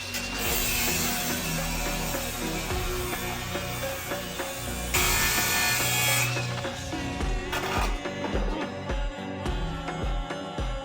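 Seized inner fender bolts on a rusty car being cut with a power tool, a loud continuous grinding, sawing rasp that runs steadily the whole time with brief shifts in pitch and pressure.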